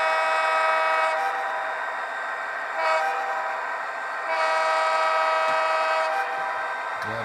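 HO-scale Intermountain SD40-2 model locomotive with an ESU LokSound decoder and speaker, sounding a loud sustained multi-chime horn in repeated blasts over a running diesel throttle rumble, close and alone with no talking.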